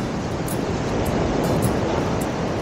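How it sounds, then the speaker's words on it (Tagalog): Strong post-storm sea waves heard from a fishing spot, a continuous loud roar of surf and wind buffeting close to the microphone without letup. "Malakas ang alon,"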